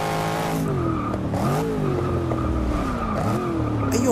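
A 2015 Chevrolet Camaro Z/28 skids through a race in Forza Motorsport 6, its tires squealing in long wavering tones over a steady, loud engine drone, with no talking.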